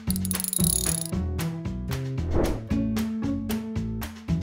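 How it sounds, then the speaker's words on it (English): A Torx wrench tightens a control arm bolt on a Fiat Panda mk3, a close series of sharp ratcheting clicks and metallic clacks in an uneven rhythm, with no voices. "Finish off the tightening with a Torx wrench."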